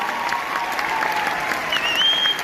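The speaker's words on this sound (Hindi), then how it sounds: "एक बार हमारे पिताजी के लिए डायरेक्टिव से तालियां हो जाए।" Steady applause from an audience at a network-marketing motivational event, a continuous clapping wash at moderate volume with a faint whistle-like tone rising near the end.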